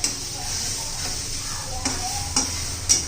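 Garlic cloves, about fifteen of them, sautéing in oil in a pan for a dry cluster bean dish, giving a steady soft sizzle with occasional sharp scraping and stirring clatters near the end.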